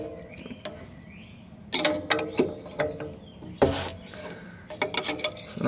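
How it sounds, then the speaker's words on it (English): A wrench works an adjustment ring up on a threaded part, giving a few ratcheting, scraping metallic clicks and rubs in short bursts close by, with quiet gaps between them. "And then the wrench again to raise this top one up."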